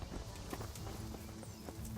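Horse hooves galloping in the Kingdom Come: Deliverance video game, a brief muffled drumming of hoofbeats under a dense noisy game soundscape, faint and partly masked.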